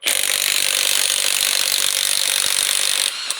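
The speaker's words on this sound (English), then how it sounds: "we're going to put an impact gun on there. This is my Milwaukee mid-torque." A Milwaukee mid-torque impact gun at full power level 3 works on a car's stubborn lug nuts, giving a loud, continuous buzzing rattle that runs for about three seconds before cutting off abruptly.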